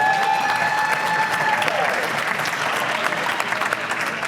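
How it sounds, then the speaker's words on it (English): An audience at a housing panel discussion gives a panelist a big round of applause, dense and fairly loud clapping that carries on evenly without a break. "Let's give Spen a big round of applause."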